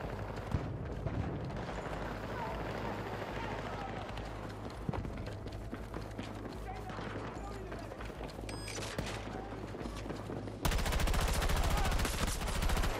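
Gunfire in Battlefield 2042, dense bursts of rifle and machine-gun shots mixed with battlefield noise throughout, growing louder near the end, while a player talks over it.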